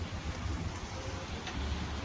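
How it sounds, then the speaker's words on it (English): Heavy rain pours outdoors in a steady dense hiss with low rumbling, heard close and continuous for a couple of seconds with no voices. "it is raining a storm out here"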